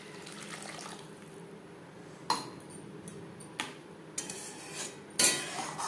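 Water poured into a pan of mustard fish curry on a gas stove, with quiet splashing and a few sharp clinks of utensils against the pan.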